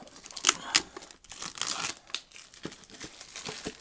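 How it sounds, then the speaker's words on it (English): Crinkling plastic and sharp snipping or tearing sounds come in short bursts, close and fairly quiet, as a hockey trading card tin package is cut open with scissors. "the tin, which I will have to open up with the scissors"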